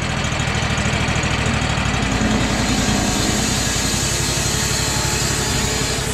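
A Cooks MP32 portable sawmill's engine runs steadily in a shop, a loud continuous rumble with the blade spinning, no talk over it.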